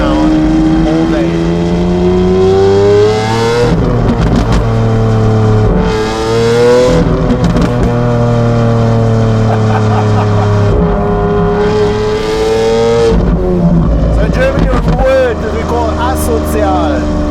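A straight-piped Lamborghini Aventador S Roadster with a naturally aspirated 6.5-litre V12 revs loudly and close, its pitch climbing and falling through repeated rev sweeps, with someone talking over parts of it.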